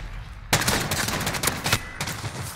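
SMG gunfire in Call of Duty: Modern Warfare, a burst of rapid shots followed by several irregular sharp cracks, loud and close with no talking.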